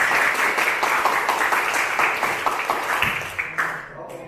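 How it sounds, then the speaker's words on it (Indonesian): Classroom applause from students during a school lesson, sustained brisk clapping throughout at fairly close range, thinning toward the end. "Kita tepuk tangan untuk kita semua."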